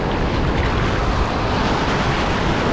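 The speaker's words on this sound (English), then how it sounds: "I know the ocean is just crashing back there." Ocean waves crashing on a Virginia Beach shoreline during surf fishing, a loud, dense, continuous roar of surf close to the microphone with wind mixed in, no pauses.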